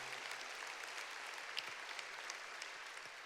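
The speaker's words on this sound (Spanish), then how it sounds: "Vamos a darle un aplauso al Señor con mucho" A church congregation applauds at a worship service, a steady wash of many hands clapping at moderate, somewhat distant level throughout, with no voices standing out.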